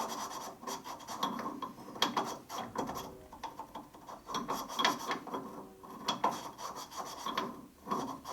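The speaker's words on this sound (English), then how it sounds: "you can hear the chunk of grit still in there" Gritty grinding and rasping from a part of a 1942 Harley WLC/WLA 45ci transmission being turned by hand, with grit still caught inside. Close, irregular scratchy scraping with faint mechanical clicks and no talk.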